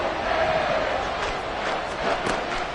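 Stadium crowd noise from the Madden 24 football game at Hard Rock Stadium, a dense, loud, continuous roar with swelling cheers before a third-down play.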